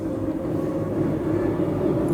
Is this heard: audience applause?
no